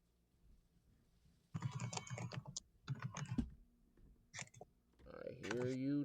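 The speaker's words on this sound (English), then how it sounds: "I hear you typing." Quiet clicking of keys on a computer keyboard in short bursts, with faint voices talking in the background.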